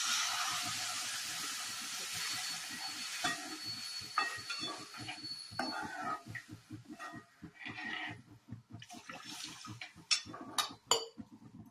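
Water tipped into a hot pan while cooking kurdai bhaji, a Marathi dish, giving a strong sustained hiss that breaks into rapid bubbling, popping sputters toward the end.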